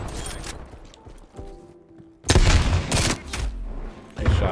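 Gunfire in Call of Duty Cold War, including a Swiss K31 sniper rifle: a quieter stretch of scattered shots and thuds, then loud, dense bursts of close shooting and booms.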